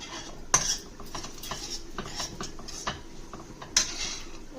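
A metal spoon scrapes and clinks against a pan as masala paste made with coconut and garlic is stirred into a small-fish curry, with a couple of sharp knocks and a soft continuous scraping, close and without talk.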